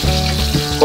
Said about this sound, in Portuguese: E já vamos refogar o alho